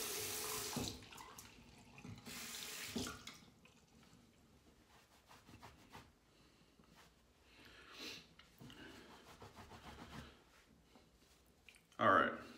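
Running tap water rinsing a Simpsons Duke 1 shaving brush over a sink, with splashing bursts coming and going and a louder gush near the end; the flow is fairly quiet and sits under faint background noise.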